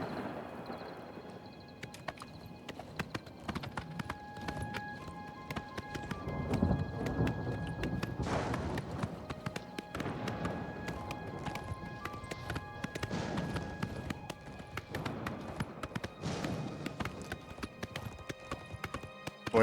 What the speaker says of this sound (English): Oh, hi, horse.